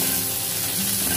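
Chilli-spiced bitter gourd sautés in a pan with a dense, continuous sizzle and a faint stirring texture, close and even from start to finish.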